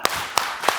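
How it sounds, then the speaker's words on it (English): Audience at a tech conference talk doing a rhythmic triple clap, three sharp, loud unison claps evenly spaced about a third of a second apart. "Triple clap."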